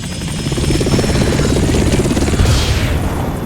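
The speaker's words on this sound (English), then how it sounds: "A Hind D. Colonel, what's a Russian gunship doing here?" A Hind D helicopter gunship from the Metal Gear Solid video game makes a loud, close rotor thump, rapid, pulsing and unbroken throughout, with the engine drone beneath it and no voices.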